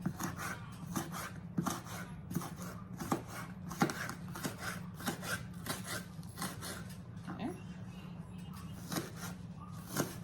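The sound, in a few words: chopping onion with a knife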